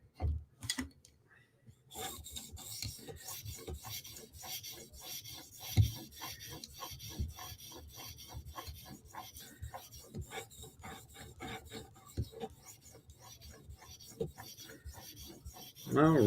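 Steady rasping strokes of a Spyderco knife blade drawn across an 800 grit sharpening stone, close and continuous with a faint scratchy texture and occasional small clicks.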